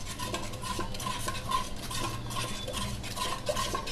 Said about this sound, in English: We have to mix all of them until they becomes into a homogeneous mixture.